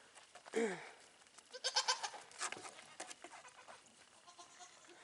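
A goat bleats faintly a few times over quiet outdoor background, with soft indistinct sounds in between.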